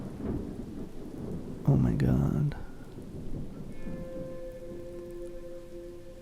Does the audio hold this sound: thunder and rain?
yes